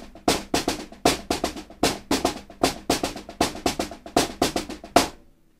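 Paradiddlediddle played on a drum pad with accented right-hand strokes and ghosted left-hand notes, a crisp, close, swinging shuffle of loud and soft taps repeating evenly before a final stroke rings out.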